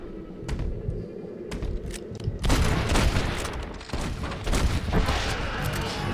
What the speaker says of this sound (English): Might have to use my sniper rifle here.